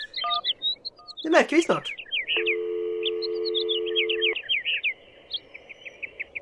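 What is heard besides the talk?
telephone dialing and busy signal in video game Syberia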